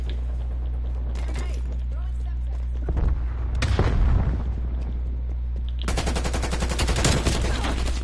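Gunfire in Call of Duty Cold War, bursts of rapid shots and booms at moderate distance separated by quieter stretches, with a voice talking over the action.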